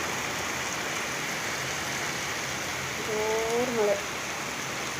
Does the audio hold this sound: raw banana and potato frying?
no